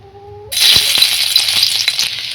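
Chopped garlic hits hot oil in a pan and erupts into a loud, steady sizzle that continues with faint crackles and pops; a soft tone sounds just before the frying starts.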